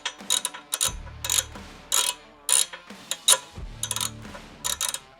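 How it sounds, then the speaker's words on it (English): A ratchet with a T45 Torx bit backs screws out of a Harley-Davidson Touring crash bar, sharp bursts of close clicking pawl sounds in several runs, with low rumbling thuds between. "Go ahead and remove the other side, again using your T45 Torx."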